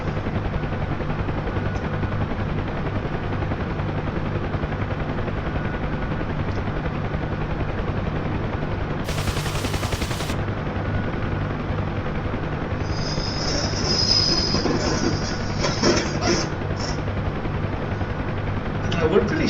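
Bell UH-1 Huey helicopter in flight, heard from inside the cabin as a steady, loud rotor and turbine drone with low thumping, holding level around 500 feet, with brief bursts of radio or intercom noise.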